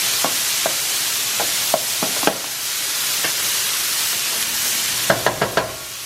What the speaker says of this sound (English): Add a little bit of oil, and I'm gonna do my onions.